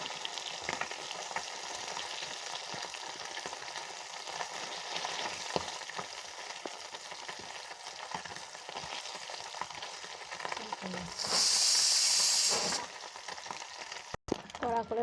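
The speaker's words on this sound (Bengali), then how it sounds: "বেশ লাল লাল করে ভাজবো এটাকে" Fish pieces frying in hot oil until browned, a steady close crackling sizzle running throughout with a louder hissing burst near the end, and a voice speaking faintly underneath.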